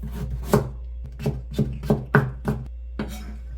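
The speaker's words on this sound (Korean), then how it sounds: "당근도 곱게 채를 썰 거예요." A knife finely julienning carrot on a cutting board for kimchi, with about eight crisp, distinct chops in an uneven rhythm, close and fairly loud, with no talking.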